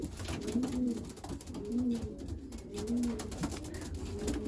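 Young racing pigeons coo repeatedly in a soft, rhythmic series of low calls, close by, with faint handling and background noise around them.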